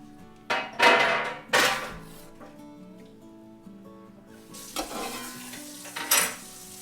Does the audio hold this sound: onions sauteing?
yes